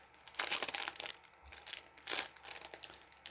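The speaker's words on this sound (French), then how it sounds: "Alors, je vais la déballer." Small pink tweezers are unwrapped from plastic packaging close up, giving bursts of crinkling and crumpling plastic with short tearing rustles, irregular and fairly quiet, with no talking.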